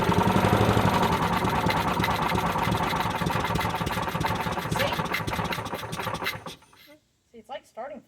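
A Toro lawn mower engine that won't start properly runs loudly and roughly for several seconds, then cuts out abruptly, leaving near silence broken by a few short bursts of a voice.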